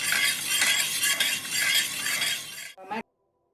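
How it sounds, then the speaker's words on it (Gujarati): Sugar is stirred in a pan while making kopra pak, a traditional Indian coconut sweet, a close continuous scraping swirl of a spoon that ends with a few metallic clinks before silence. "પોણી વાડકી મોરસ લઈશું અને એને બરાબર હલાવીશું"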